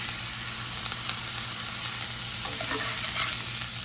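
Smash burger patties sizzle steadily in a cast iron skillet, a dense, continuous frying hiss with faint scraping and spatula stirring near the end, close and fairly loud with no talk.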